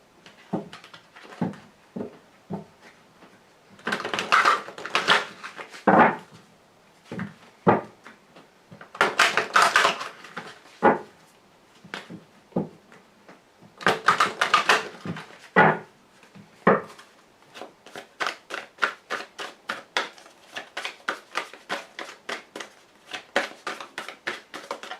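Lenormand fortune-telling cards are shuffled and drawn on a table: bursts of riffling and rustling alternate with quick taps and slaps, followed by a run of rapid flicking clicks near the end, all close and fairly quiet.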